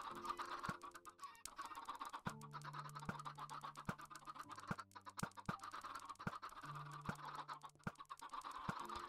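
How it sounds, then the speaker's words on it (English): Minecraft chickens cluck and scratch in a pen, a busy overlapping stream of short game-style clucks, ticks and taps with faint held tones underneath and no talking. "You'll see there's a bunch of chickens in here."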